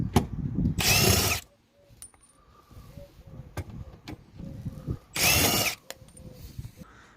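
Two loud bursts of a power drill spinning out T27 Torx bolts from the under tray of a Volvo V60 2.0 D4, each lasting under a second, with quieter clicks and tool handling between them.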